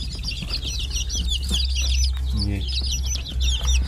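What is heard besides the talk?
Australorp and Plymouth Rock chicks clucking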